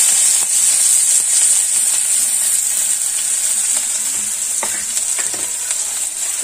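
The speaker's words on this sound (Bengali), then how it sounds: "এই পর্যায়ে আমি পেঁয়াজ দিয়ে দেবো।" Onions sizzle steadily in hot oil with panch phoron and bay leaves, a bright continuous frying hiss with a few clicks and light stirring scrapes near the end, close and loud, no voices.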